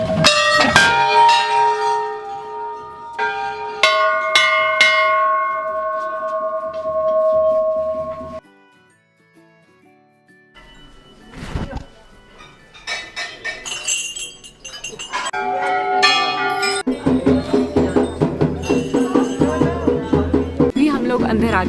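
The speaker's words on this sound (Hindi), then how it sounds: "यहाँ पे बहुत सारी घंटियाँ और ये घंटियाँ सालों से हैं" Many temple bells ring at a Golu Devta temple, with repeated bright clangs and long ringing tones. Busier, overlapping strikes arrive in bursts, a brief near-silent gap sits between them, and the sound is loud and close.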